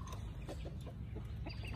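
Hens, one of them going broody, give faint clucks in a loose run of short soft calls over a steady low background hum.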